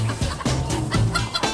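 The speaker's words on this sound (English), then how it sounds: "This chicken here is making some rather funny noises." Hens clucking inside a chicken coop, close and loud, with a run of short repeated clucks and throaty calls in quick succession.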